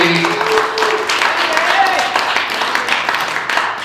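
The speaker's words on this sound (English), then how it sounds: "big round of applause for Brian" A comedy club audience applauds for the show's host, a steady, dense wash of clapping that holds for the whole few seconds without a break.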